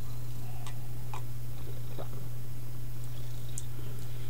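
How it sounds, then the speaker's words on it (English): A purring house cat sits very close to a microphone, its steady low rumble running continuously under faint ticks and small clicks, with no talking. "I've got a very purry cat, and I apologize if that's really loud for you."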